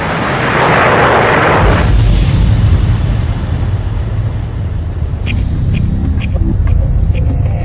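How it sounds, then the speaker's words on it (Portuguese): A meteor striking the ground in a documentary sound effect: a huge, loud explosive boom bursts out, then rolls into a long, heavy rumble that lingers for several seconds with some crackling debris near the end. "e quando atingisse o solo haveria uma grande explosão."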